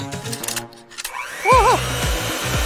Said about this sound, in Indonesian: Susunya mengalir nih. Ayo di blender.